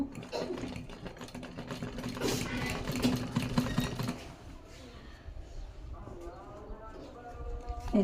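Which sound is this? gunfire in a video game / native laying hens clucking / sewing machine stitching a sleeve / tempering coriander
sewing machine stitching a sleeve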